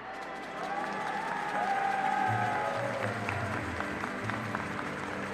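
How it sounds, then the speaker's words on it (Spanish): Congregation applause for parish choir groups at a Mass in the Diocese of Nezahualcóyotl, a moderate wash of clapping in a large space, with faint tonal sounds and a low rumble underneath. "Para ellos, un fuerte aplauso."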